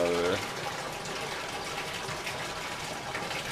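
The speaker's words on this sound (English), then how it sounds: "See the water going out of there." Water from gravity-fed aquaponics grow beds in a greenhouse draining out in a steady, rushing gush after a brief opening tone, continuous and fairly close.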